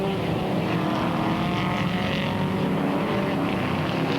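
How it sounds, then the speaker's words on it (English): Engine of a Ford GT40 race car in the 1997 Tour de France Auto classic rally, a steady droning roar heard at a moderate distance and fairly faint, without talk. "Henri Pescarolo passes that GT40 and takes the lead of both this race and of the rally"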